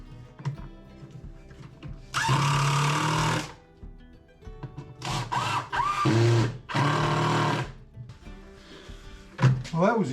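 Power drill driving screws into the base of a storage cabinet: several loud, close bursts of motor whine and grinding, each a second or so long, separated by pauses, knocks and handling noise, with some talking between.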